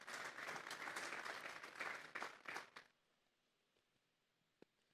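Congregation applause at a church service breaks out loud and dense for nearly three seconds, then drops off sharply into quiet room tone with a single faint knock near the end.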